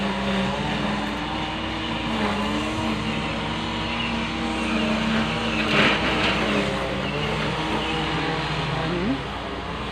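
Heavy trucks idle and rumble on the street next door, a steady low engine drone with tonal hum lasting throughout, loud and continuous with a brief swell midway.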